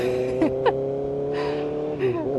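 A 2025 Kawasaki ZX6R motorcycle accelerates smoothly on a hot day in Texas, its engine note rising steadily and loud, heard from the rider's position with a couple of brief breathy sounds over it.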